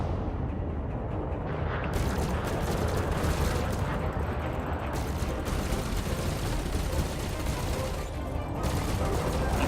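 Continuous rapid multi-cannon fire from a spaceship in Elite Dangerous, a dense steady mechanical rattle of shots with brief gaps, heard during a fight against a big ship.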